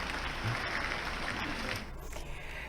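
An audience claps steadily as a performer leaves the stage, a dense, moderately distant round of applause that carries on without pause and eases slightly near the end.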